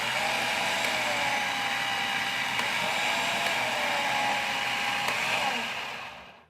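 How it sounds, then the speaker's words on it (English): A Cuisinart FP-8SV Elemental 8-cup food processor motor whirs steadily at close range, its pitch sliding down and back up as the speed is switched from high to low, then winding down at the end. "once you get used to using your food processor, you can switch from high to low"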